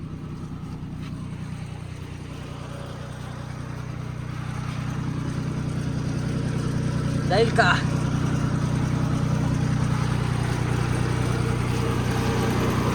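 A mini tractor engine rumbles steadily by a roadside, growing slightly louder over time, while a person briefly speaks over the drone.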